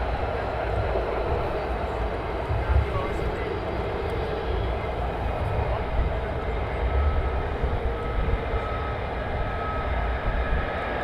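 At RAF Lakenheath an F-35 fighter jet rolls for takeoff, a sustained broad jet roar and rumble holding steady at a distance for several seconds.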